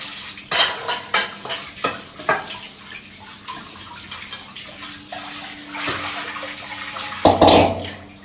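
Bitter gourd frying in a kitchen pan, with a broadband sizzle beneath repeated scraping and stirring strokes and a louder burst near the end; no talking.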